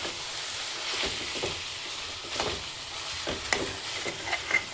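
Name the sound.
stirring chillies, mint and coriander into chicken haleem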